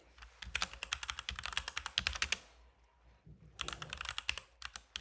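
Code being typed on a computer keyboard in quick, irregular bursts of clicking keystrokes, close and crisp, with a short pause in the middle before typing resumes, and no voices.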